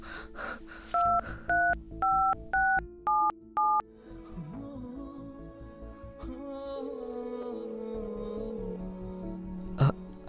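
Telephone keypad tones, seven short evenly spaced beeps of shifting pitch, followed by a quieter stretch of faint room sound and a brief sharp noise near the end.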